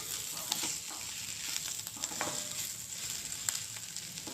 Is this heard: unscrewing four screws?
no